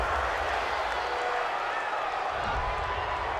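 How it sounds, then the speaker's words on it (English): Home crowd noise in a Madden 20 simulation game of Chiefs at 49ers, a steady, dense roar of cheering and applause swelling from a full stadium, running continuously throughout without breaks. "This home crowd, they're happy with that call."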